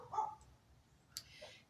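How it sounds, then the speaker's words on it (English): A small dog barks a few times in the background, faint and distant, in a quiet indoor space where jewelry is being crimped. "Now you hear little dog barking behind me."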